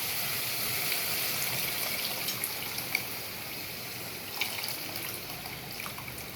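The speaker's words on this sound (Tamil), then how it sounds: "புளி ஊற்றிக்கலாம்" Steady liquid trickling and splashing, a continuous pour of tamarind water into a pot of garlic curry with a few small clinks, fairly close and without talk.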